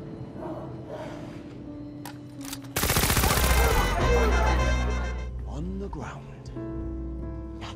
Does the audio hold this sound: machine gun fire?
yes